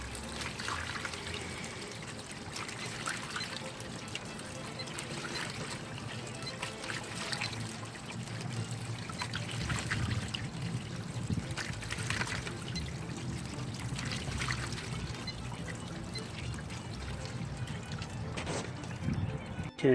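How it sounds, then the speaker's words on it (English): Water from a Costway mini washing machine drains out in a steady pour and trickle, a continuous moderate splashing flow with no talk over it. "all the water is drained out"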